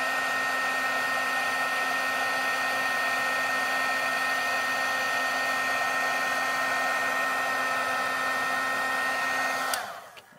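A handheld heat tool blows hot air to melt white embossing powder on a stamped card, a close, steady whirring hum that holds for about ten seconds and then clicks off.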